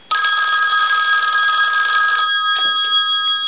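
A Western Electric 500 rotary desk telephone rings its bell, triggered from a line analyzer: one steady, loud metallic ring for about two seconds, then a softer trailing shimmer as the bell decays.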